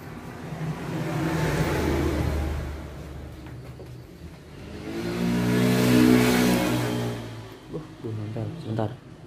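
A carburetted Yamaha Xeon motorbike engine turns over on its electric starter, producing two loud, swelling bursts of mid-pitched engine drone that rise and fall, followed by shorter choppy engine pulses.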